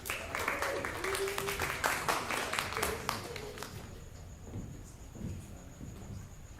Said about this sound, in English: Another huge round of applause for Unique and that killer set